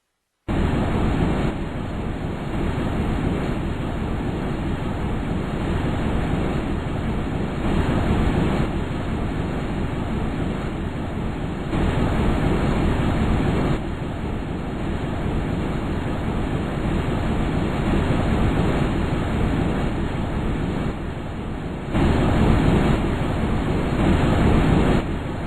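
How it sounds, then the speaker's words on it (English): Simulated sound of the Huygens probe descending through Titan's atmosphere: a continuous, dense roar like rushing wind that swells and shifts in loudness in long blocks over about 25 seconds, with no voices. "They give a realistic recording of what a traveler on the Huygens probe would have heard during the ride down through Titan's atmosphere."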